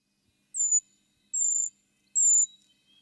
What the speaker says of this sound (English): The bird calls were recorded by Jeffrey A. Keller